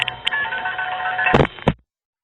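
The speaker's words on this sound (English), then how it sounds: "That was the sound of one of the 107 register senders in VZ Tandem 1" Electronic telephone tones blend with sharp mechanical clicks and clanks of relays from a register sender in the VZ Tandem 1 telephone exchange, ending abruptly in silence.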